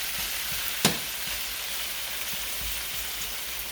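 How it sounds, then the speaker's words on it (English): Chicken and spinach sauté in a pan with an even, close frying hiss, broken once early by a sharp utensil click. "we're just going to saute this around for a minute or two so it cooks down"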